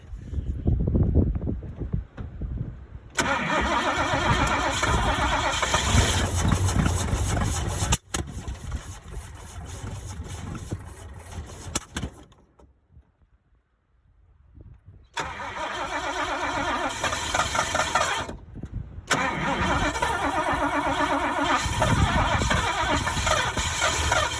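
An old engine cranks and fires up, settling into a rough idle in long loud stretches, cut by a brief stall into near silence before it catches and runs again.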